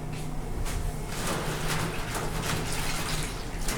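Water drains and splashes steadily from cooked greens being squeezed out in a sushi kitchen, a continuous close, moderately loud trickle with a few soft knocks.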